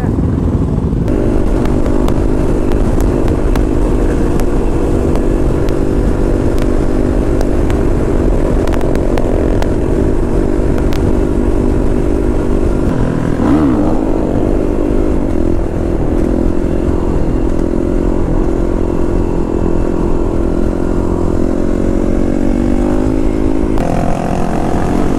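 A motorcycle engine drones loudly and continuously while riding on the road, with a steady rumbling note and wind buffeting throughout.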